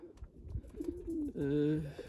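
Jansen de Klak breeding pigeons coo nearby in low, throaty, rolling calls, one drawn-out coo standing out clearly.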